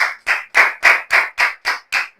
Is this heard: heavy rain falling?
no